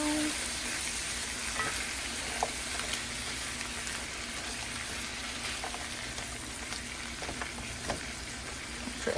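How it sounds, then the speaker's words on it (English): Vegetables and noodles fry in a pan, giving a loud, continuous close sizzle, with faint scraping and clinks as they are stirred around. "Go ahead and start stirring around."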